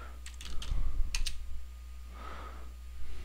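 Quick bursts of typing on a computer keyboard while writing a Facebook post, close clicking keystrokes in short clusters separated by a pause, no voices.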